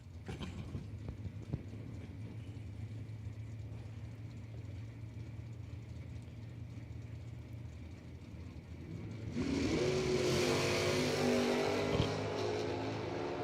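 A convertible Camaro launches in a drag race at the Numidia 150, with a distant engine hum that swells into a louder broadband roar partway through, alone without talk.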